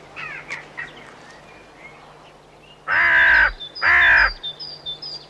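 Several crows caw harshly while mobbing a buzzard, two loud, close bursts of calls standing out over a quieter outdoor background with faint distant bird sounds.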